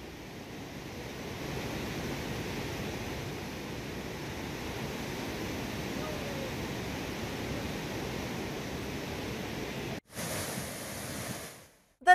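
The Parvati river in flood rushes past in a strong, even roar of turbulent water, loud and continuous, broken by a sudden cut near the end.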